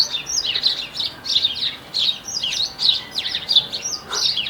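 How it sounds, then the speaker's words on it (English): Loud, busy birdsong with many overlapping chirps and tweets repeating in bursts, close by and filling the scene. "Apologies for the birds being loud."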